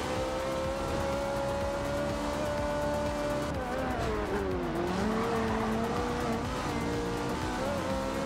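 A car drives steadily in the racing game Forza Horizon 2, with a sustained engine drone that dips and rises in pitch as the driver shifts and accelerates, accompanied by tire noise.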